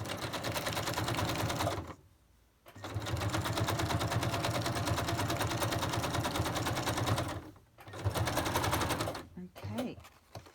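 A sewing machine runs in fast, rapid-fire bursts while stitching an embellishment onto a handmade boho journal, with two brief pauses between runs; quiet and close, no talk.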